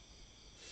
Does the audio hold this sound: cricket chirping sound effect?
yes